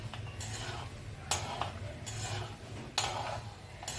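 Almonds roasting in a pan while being browned for besan laddoos, giving sparse, faint crackles and light ticks at irregular moments over a soft background hum.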